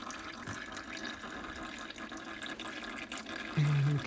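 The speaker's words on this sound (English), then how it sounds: "So some oil will drip." Engine oil drips and trickles from a Smart Fortwo 451 during an oil filter change, a steady faint liquid patter close by with a slightly louder splash near the end.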